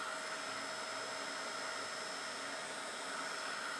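A heat tool blows hot air onto a rubber stamp mounted on a wooden block, giving a steady, soft whooshing roar with no pauses.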